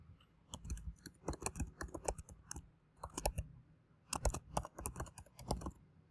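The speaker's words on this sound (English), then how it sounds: "and we're going to type in our email." Rapid, uneven bursts of key clicks on a computer keyboard while an email address is entered into a password manager sign-up form, close and crisp with short pauses between runs of keystrokes.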